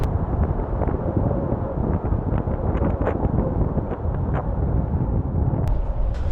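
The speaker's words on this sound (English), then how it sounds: "Wind's not too bad at the moment" Wind roars steadily around a Hilleberg Soulo tent pitched in snow, a loud, constant low rumble with buffeting gusts and faint fabric flutter, no talk.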